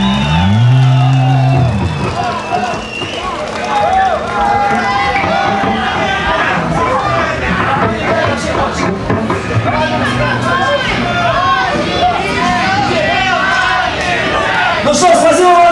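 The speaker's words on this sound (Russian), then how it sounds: "аплодируйте себе" A large audience roars, whoops and cheers at the end of a rock concert at the Nashestvie festival, a loud dense crowd noise throughout.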